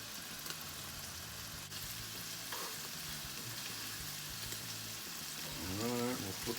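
Beef tenderloin steaks, salted, sear in a hot pan for steak Diane, giving a steady close sizzle throughout, with a brief voice rising over it near the end.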